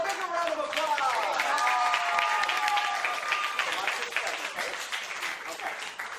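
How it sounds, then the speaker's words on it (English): A virtual holiday cabaret audience gives a volunteer named Todd lively applause, with clapping, cheering and excited voices riding over it before the clapping gradually tapers off. "Let's give him a bigger round of applause."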